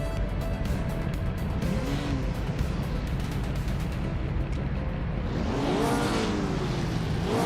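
Racing cars in a video game on the Maple Valley short reverse track roar past, engines loud and continuous, with pitch sweeping as cars pass close and a brief tire squeal.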